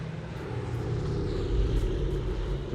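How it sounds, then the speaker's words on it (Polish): A low, steady engine drone of an airplane in the survival video game Project Winter, a broad rumbling hum that swells slightly louder midway and holds constant without talk. "Brzmi jak samolot"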